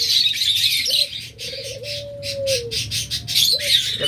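A pair of olive yellow pet birds call up close, with repeated chirps and a drawn-out whistled note over a busy chattering background of other birds.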